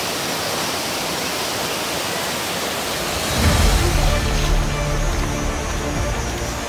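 Steady rushing water of a waterfall roars continuously, growing a bit louder and deeper partway through, with no voices.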